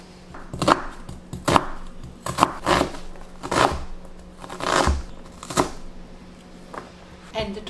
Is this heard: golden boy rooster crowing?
no